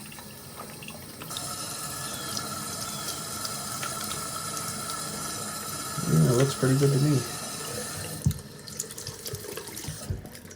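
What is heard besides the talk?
water running from a tap, rinsing paint out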